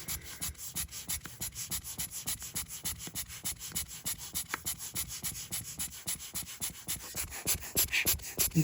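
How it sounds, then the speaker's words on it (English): A hand dust blower is squeezed again and again over a Nintendo DS screen, giving a fast, steady run of soft close puffs of air with no talk. "now I will clean the screen off with a dust blower"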